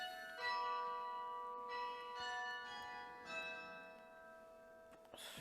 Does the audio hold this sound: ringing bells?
yes